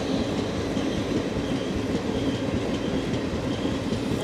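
The Koyna Express rumbles steadily as it pulls into Pune Junction, a dense, continuous rolling roar of wheels and coaches heard from inside the carriage with faint rhythmic clatter throughout.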